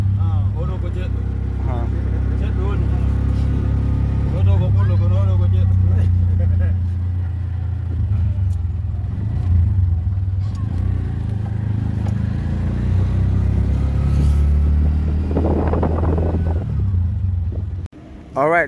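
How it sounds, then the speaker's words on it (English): A tuk-tuk ride along a highway in The Gambia: steady low engine drone and road rumble throughout, with passing traffic, and people talking over it. "So I'm just gonna show you a bit of what's on the highway right here while we're enjoying our tuk-tuk."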